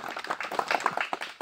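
Audience clapping at a Jay Bharat Party political speech in Chirang district, a dense patter of hands that holds steady for about a second and a half under a murmur of voices.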